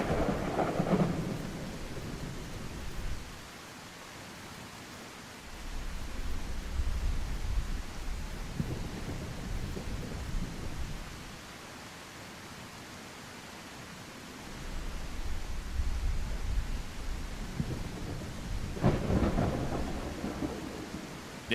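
Steady rain with rolling thunder in the survival game The Isle, a constant hiss that swells in long low rumbles near the start, middle and end, with no talking.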